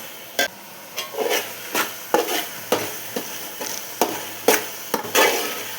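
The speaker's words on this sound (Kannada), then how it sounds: "ಈ ಮಸಾಲೆ ಚೆನ್ನಾಗಿ ಎಣ್ಣೆಯಲ್ಲಿ ಇದರಲ್ಲೇ ಫ್ರೈ ಮಾಡ್ಕೊಳ್ಬೇಕು ಸ್ವಲ್ಪ ಹೊತ್ತು" Masala frying in oil for a vegetable dish sizzles softly beneath a steady rhythm of about a dozen scraping stirs against the pan, close and clear.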